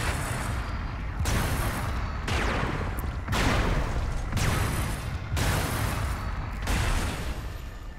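Rail guns in the Robocraft video game fire at a bot in loud, repeated bursts, roughly one blast a second, each with a sharp attack and a sustained roar between volleys, with no talk over them.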